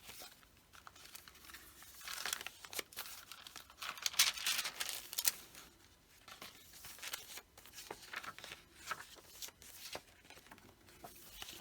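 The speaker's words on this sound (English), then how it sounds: "Tracing paper." Crinkly tracing paper being handled, giving a steady run of crisp rustles and crackles with sharper crunches, loudest midway, close and with no voices.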